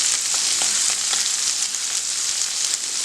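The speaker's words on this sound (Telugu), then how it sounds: "ఇప్పుడు ఇదంతా ఒక 2 నిమిషాలు మనం ఫ్రై చేసేసుకుందాం." Paneer butter masala sizzling steadily in a pan with kasuri methi and a little turmeric just added, a continuous close hiss of frying with faint stirring scrapes, no talking.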